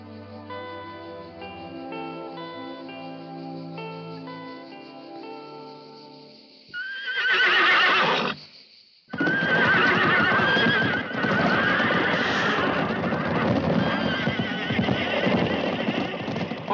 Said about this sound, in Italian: i suoi figli spinsero fuori i cavalli e li lasciarono liberi nella savana